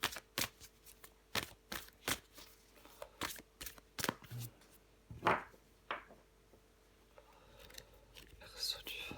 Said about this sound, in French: je prends encore une carte pour vous, les Verseaux